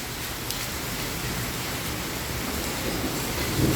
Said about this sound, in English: It's hailing right now.